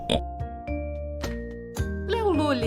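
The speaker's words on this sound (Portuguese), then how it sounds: "Este é o som do porco, que vai grunhir de novo." A pig's grunting oink rings out in a bright children's animal-sounds collection, set among chiming, bell-like musical tones, with a wavering, voice-like squeal rising near the end.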